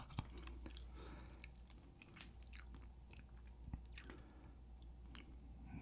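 Grilled pollock roe (myeongran) eaten with rice, giving close, steady chewing and soft squishy bites with occasional crunchy clicks, a continuous mouth-sound texture with no talking.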